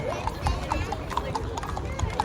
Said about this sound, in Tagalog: Parada ng mga kabayo.